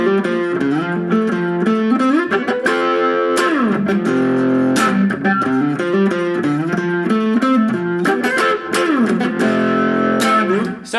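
Electric guitar plays a fretboard exercise over a single chord, a continuous run of clear picked notes and slides in a lively rhythm, close and steady throughout with no talking.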